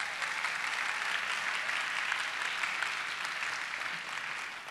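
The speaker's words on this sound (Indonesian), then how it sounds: "Tepuk tangan buat kalian semua." A conference crowd at a talk show session applauds in an even, continuous wash of clapping that holds steady and eases slightly toward the end.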